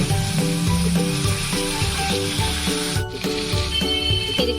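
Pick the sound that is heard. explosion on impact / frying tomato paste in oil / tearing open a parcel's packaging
frying tomato paste in oil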